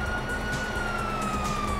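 Police siren wailing steadily in the Grand Theft Auto 5 video game, a continuous rising-and-falling tone held at constant loudness over game background noise.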